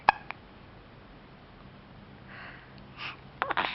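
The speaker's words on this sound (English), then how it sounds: "do you have a hiccup?" A single quiet hiccup-like gasp near the start, then a faint breathy catch around three seconds and a couple of short clicks at the end, in an otherwise hushed room.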